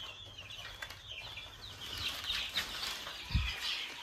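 Young Brahma and Colombian Brahma chicks, around ten to fifteen days old, cheep and cluck on a farm alongside turkey poults, a steady scatter of faint high peeps with a brief louder low thump near the end.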